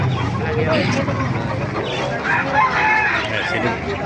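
Roosters crow amid a busy, noisy crowd at a market in Calumpit, Philippines, with steady chatter and babble throughout, the calls blending into the market din.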